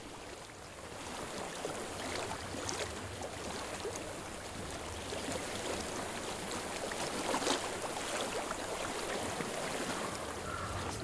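Water flows continuously in the video game Hellblade: Senua's Sacrifice, a soft, even rushing wash like a stream, quiet and steady with no voices.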